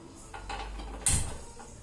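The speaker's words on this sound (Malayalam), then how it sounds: "ലൈറ്റർ ഇടുക, ഇതുകൊണ്ട് അടുപ്പ് കത്തിക്കുന്നത്." A few dull mechanical clicks of a lighter, then a sharp snap and a short hissing whoosh as a gas stove burner lights, close and quiet.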